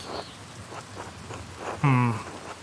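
Rain in the Pentiment video game, a soft continuous patter beneath brief game sounds and a short tonal chime near the end, no voices.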